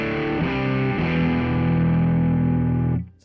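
Guitar chord played through a Caroline Wave Cannon overdrive pedal with the tone control turned all the way down, giving a smooth, warm distorted ring that sustains for about three seconds before being cut off.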